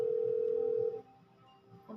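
A phone ringing tone during a call in the video game GTA V, one steady electronic tone for about a second, then it cuts off to a quiet background.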